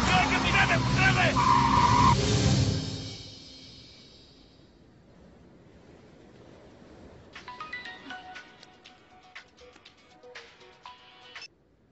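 A speeding car with screeching, skidding tires in a chase scene, loud at first and fading within a few seconds, followed by quieter background sounds and a burst of tonal, ringtone-like chimes.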